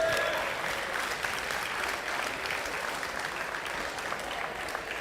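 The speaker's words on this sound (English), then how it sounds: "Big round of applause." A convention-center crowd at a sports championship medal ceremony breaks into loud, sustained applause, a dense steady wash of clapping that holds evenly for several seconds with no voices over it.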